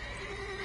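A mare's neigh from The Witcher 3: Wild Hunt, a single sustained whinny with a steady tone, heard close and moderately loud for under a second with no talk over it.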